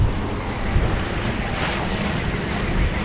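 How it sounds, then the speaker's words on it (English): A sailboat under way between islands in light wind, with steady wave wash and water rushing along the hull, plus constant wind buffeting on the microphone; no voices. "We're just sailing in between the islands at the moment."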